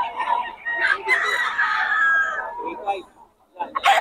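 Chickens and roosters crow and cluck at a poultry market in Bocaue, with a rooster crowing close by and more clucking and a crow at the end, while people talk over the birds.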